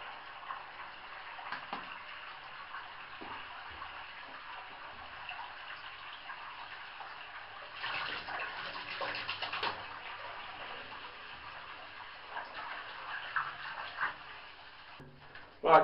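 Water running steadily into a basin, filling it to wash a Newtonian reflector telescope mirror, a soft continuous gushing hiss that is fairly faint, with a few small knocks and a louder clunk at the end.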